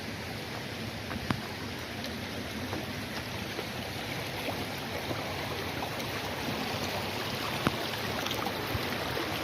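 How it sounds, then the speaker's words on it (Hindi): Clear water flowing over rocks in a stony stream area, a steady, fairly quiet broadband rush with occasional small splashes and ticks, running alone without a break. "ये आप देख सकते हैं कितना पानी बह रहा है।"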